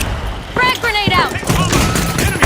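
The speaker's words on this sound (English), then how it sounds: "Frag grenade out!" A frag grenade detonating in The Finals amid a firefight: sharp bursts of gunfire and a thumping blast in close succession, with game voice lines over it.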